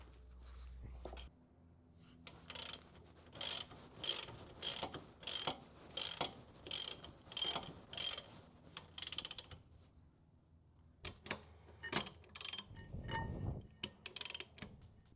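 Ratchet tightening 17 mm bolts on a Brembo six-piston caliper fitted to a 2023 WRX, heard as repeated bursts of quick, close clicking strokes with short pauses between them.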